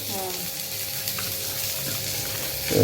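Bombil fish and prawns coated in masala fry on a tawa with a steady, close crackling sizzle that swells near the end, with no one speaking.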